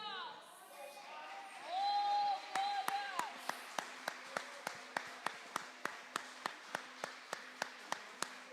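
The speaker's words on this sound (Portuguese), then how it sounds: "Aplauda o Senhor, porque Ele é digno de toda a honra." A church congregation at an online worship service claps in a steady, regular rhythm of sharp, evenly spaced beats after a brief sung or spoken phrase, the clapping continuing moderately loud to the end.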